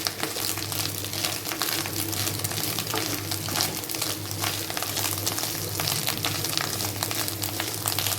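Fish egg fry mixed with turmeric, coriander powder, salt, chilli and garam masala in a pan, giving a continuous close sizzle with spoon stirring and scraping, no voices.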